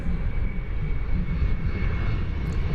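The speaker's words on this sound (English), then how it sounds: "Airbus A321." An Airbus A321 jet airliner, American Flight 1810 from Louisville, on approach to Dallas/Fort Worth airport, producing a loud, steady low engine roar with a faint sustained whine, alone with no talking.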